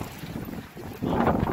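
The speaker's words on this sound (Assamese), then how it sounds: "আৰু ইয়াত ইমানেই বতাহ মাৰি আছে" Strong wind gusts across an open-air fair, rumbling and buffeting the microphone, with the roar swelling louder halfway through; no one speaks.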